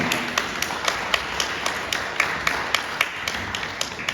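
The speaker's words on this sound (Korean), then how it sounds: "다시 한번 박수 보내주시면 감사하겠습니다" Wedding guests at a hotel ceremony clap in steady applause over a low room murmur, with sharp individual claps standing out at a fairly even rhythm throughout.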